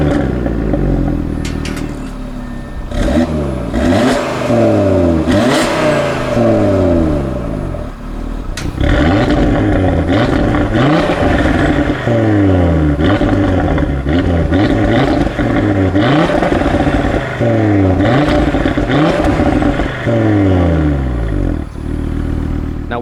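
A tuned 2018 Audi RS3 five-cylinder engine, APR Stage 1 on E85, revs repeatedly in loud, rasping bursts that sweep up and fall back, one after another with brief pauses, close and dominant.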